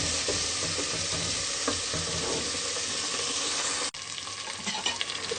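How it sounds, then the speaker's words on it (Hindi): Masala for Pakistani sarson ka saag, with black pepper and dried fenugreek, stirred and roasted in a pan, giving a steady close sizzle with scraping stirs and a brief cut near the end. "4 से 5 मिनट हम इसको मजीद भूनेंगे।"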